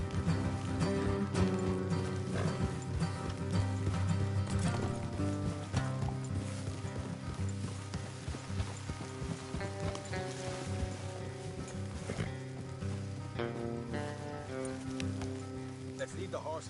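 Horse hooves clip-clop at a steady walking pace beneath layered video game music and ambient noise in Red Dead Redemption 2, moderately quiet.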